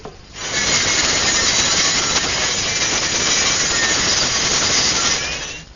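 A saw cuts a wooden flagpole piece held in a tapering jig in a woodworking shop, making one loud, steady, rasping cut of about five seconds that starts and stops cleanly.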